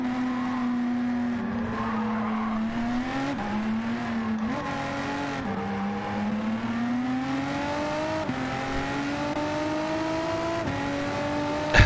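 Porsche race car in a racing video game, its engine note rising and falling through repeated upshifts, loud and close, with a brief tyre squeal and no talking.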